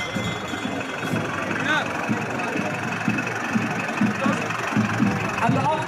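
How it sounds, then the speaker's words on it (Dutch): Tractor engine idling during a cultural street procession, a steady low rumble with a faint knocking pulse that runs throughout beneath crowd noise and people talking. "Dus vandaar dat het nu dus deze tractor geworden is."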